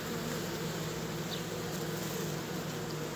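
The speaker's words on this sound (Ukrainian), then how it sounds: "Ось така от пчолка." Carnica honeybees hum steadily at open hive frames in an apiary, a continuous soft buzz that stays even throughout and is heard alone.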